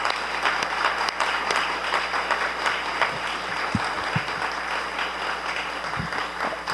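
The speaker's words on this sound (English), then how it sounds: "let's give them a round of applause" A forum audience applauds a panel at an energy event, steady moderate clapping from a hall crowd with a few low thumps mixed in.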